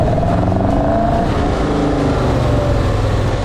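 A car driven on public roads gives a loud, close, continuous engine roar that holds steady at speed, with a constant rushing of wind and road noise and no talking.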